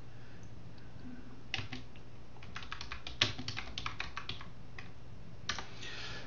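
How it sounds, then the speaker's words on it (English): Keys on a computer keyboard are typed in a loose, irregular run of sharp clicks, some in quick clusters and a few louder strokes, close by over a steady low background hum, with no talking. "I'm just typing something up for people in chat here."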